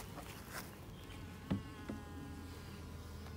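Honeybees buzz around the entrance of an active hive, a faint continuous hum with individual bees droning past close by and a couple of soft knocks, with no voices.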